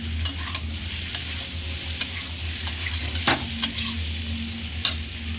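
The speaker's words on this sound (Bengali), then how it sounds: "এই চিংড়ি মাছটাও দিয়ে দেবো এখন দিয়ে পটলের সাথেই কষিয়ে নেবো" Shrimp and chopped pointed gourd stir-fried together in a pan with spices give a steady close sizzle, broken by several sharp scrapes and clicks of a spatula against the metal.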